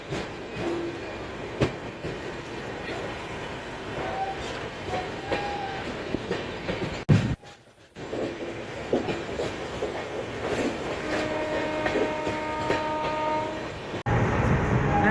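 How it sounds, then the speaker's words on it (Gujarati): The 19316 Veer Bhumi Express runs along the rails with a steady rumbling clatter, broken by a brief dip in the noise midway. The train horn sounds in sustained tones near the end. "તો આપણી ટ્રેન ઉપડી છે, જોઈ લો ફ્રેન્ડ્સ"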